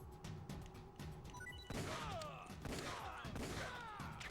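Gunshots in Metal Gear Solid: The Twin Snakes ring out as sharp bursts over game music and ambience, with a loud crack partway through followed by several more reports and whooshing effects.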